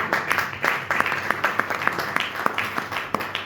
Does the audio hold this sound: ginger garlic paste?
no